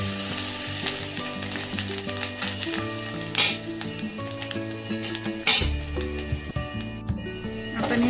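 Grated coconut sautéed in ghee in a pan for Maharashtrian coconut vadi, a steady close sizzle and frying crackle with occasional stirring scrapes, with music playing underneath throughout.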